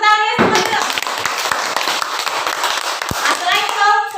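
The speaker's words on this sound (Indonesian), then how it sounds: "Coba tepuk tangannya semuanya" Schoolchildren in a classroom clap their hands together in a quick burst of crisp, close claps after a short spoken cue, with children's voices chattering before and after.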